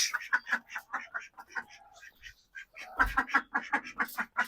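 A duck in a small backyard poultry pen quacks in quick, repeated bursts at close range, with a brief pause midway before another rapid run of quacks.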